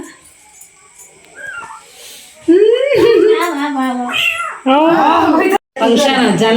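A cat meows repeatedly in long, rising and wavering cries, loud and close, amid quieter household background sounds.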